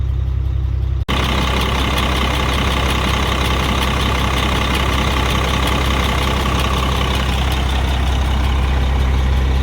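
A large truck engine with a faulty ISM water pump and almost no coolant idles loudly and steadily with a deep rumble and rattling hum, close up, continuous throughout after a brief click at the start.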